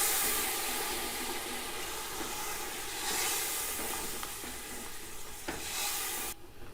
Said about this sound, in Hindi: दो मिनट तक फ्राई होने देंगे।